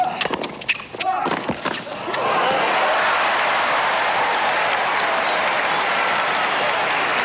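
Tennis crowd at a 1985 semifinal match at Stratton Mountain between Ivan Lendl and Jimmy Connors breaks into loud, sustained applause, rising sharply after a couple of seconds of scattered claps and holding steady.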